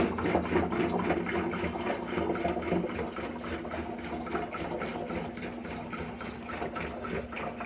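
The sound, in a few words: pouring water for dragon's blood mead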